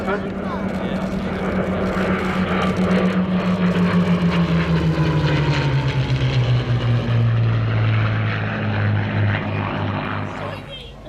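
A Hawker Hurricane propeller fighter flying past at the Cosford Airshow 2019, its loud piston-engine drone sliding down in pitch as it passes and then fading, with voices faintly underneath.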